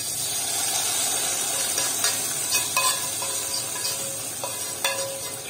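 Garlic and basil sizzle in a hot pan of cooked okra, a steady close frying hiss broken by a few soft stirring clicks.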